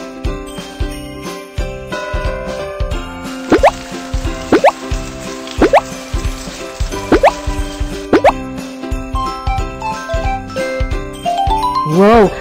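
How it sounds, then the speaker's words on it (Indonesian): Sound effect from a children's drawing game in which a Christmas tree is watered, a bright series of plopping water drips and tinkling chimes over a bouncy looping tune, ending in a rising sparkle. "Ayo kita siram pohon Natal itu."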